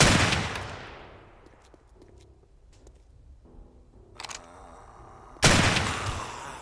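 Gunfire in the game 7 Days to Die: a loud shot opens, a few faint clicks and mechanical handling sounds follow, then a second sharp, loud shot rings out near the end.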